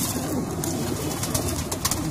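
Pigeons at a pigeon club loft: soft, repeated throaty cooing close by, with faint fluttering and rustling and no speech.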